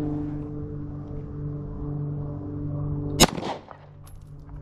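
A single sharp, loud gunshot cracks at an outdoor shooting range over a steady low engine-like hum, with a brief echoing tail afterward.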